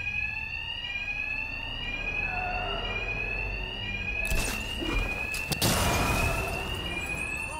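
In Batman: Arkham Knight an alarm rings steadily in a repeating electronic tone. Partway through, sharp bursts and crashes of game action break in over it, with no talk.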